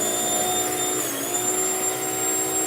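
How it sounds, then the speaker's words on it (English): A Fusion Spec Racer slot car motor spins on a dyno with a steady high-pitched electric whine, close and loud without pause. "Fusion Spec Racer, and man, this thing runs good. It runs really strong on the dyno."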